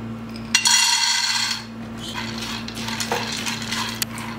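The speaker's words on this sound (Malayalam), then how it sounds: "ഇനി ഇതിലേക്ക് പീനട്ട് ചേർക്കാം." Peanuts tossed into oil in a pan rattle and clatter sharply at first, then settle into softer scraping and stirring with a faint sizzle underneath, close by.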